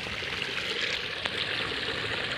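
Swollen, flooded river rushing past farm fields, a steady broad hiss of flowing water heard close and continuous, with one faint knock partway through.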